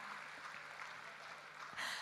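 Audience applause welcoming the Governor of Central Java onstage at a formal event, a steady broad wash of clapping from a crowd that swells louder near the end.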